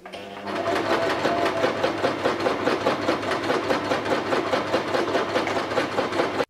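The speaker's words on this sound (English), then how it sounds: "I thought that you might like to hear some sewing machine noises while I'm stitching" Sewing machine stitching fabric for a doll's skirt, a steady rapid mechanical chatter running loud and close for several seconds without pause.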